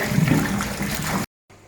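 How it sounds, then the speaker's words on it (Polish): Running water pours and splashes steadily over cucumbers being washed, a loud continuous gush that cuts off abruptly, leaving faint background noise. "Ogóreczki już się myją elegancko."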